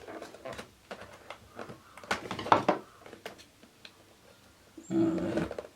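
A knife slicing and tearing open the cardboard box of a Rode VideoMicro microphone, a series of scraping, ripping strokes close up, with a final louder tearing rasp.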